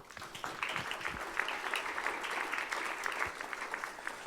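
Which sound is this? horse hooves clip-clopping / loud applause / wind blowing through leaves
loud applause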